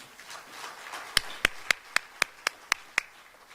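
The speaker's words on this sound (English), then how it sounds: "Another round of applause." Eight sharp, evenly spaced claps ring out alone at a panel event on ending violence against women and girls, likely a single person or a small group clapping in rhythm over a faint room hiss.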